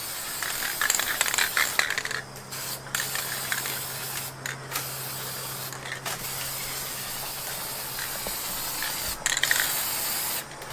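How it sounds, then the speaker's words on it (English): Aerosol spray paint can sprayed outdoors in cold weather for painting a large statue, a steady broadband hiss running through with a few short pauses and bursts, fairly close and continuous. "we're going to go do some spray with a can outside"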